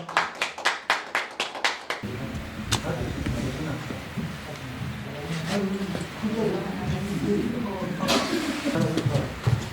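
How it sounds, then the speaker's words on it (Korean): An audience at a fan club general meeting in a Pohang concert hall claps in welcome, opening with about nine sharp, rhythmic claps before giving way to crowd murmur, voices and scattered taps. "모두 환영의 박수를 바랍니다"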